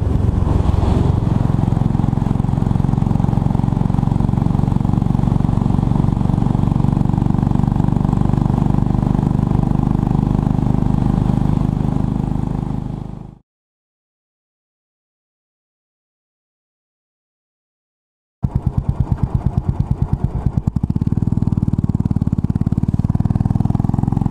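A Royal Enfield Bullet motorcycle on the road holds a loud, steady thumping engine drone close by, which cuts to a few seconds of silence before the engine sound returns, with no speech.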